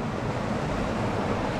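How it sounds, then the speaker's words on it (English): Steady broadband rush of a river and waterfall flowing right beside a hammock camp in Ireland, continuous and close with no breaks, no voices. "the river, the waterfall just next to my feet,"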